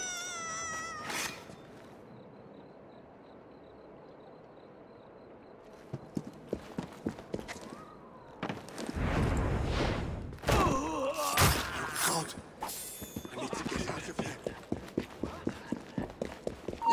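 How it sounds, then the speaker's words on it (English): Horse hooves clip-clopping in the Assassin's Creed Syndicate video game, a quiet stretch giving way to a rapid, even train of close hoof thuds mixed with game sounds and bursts of noise. "Steady on. Who's a good horse?"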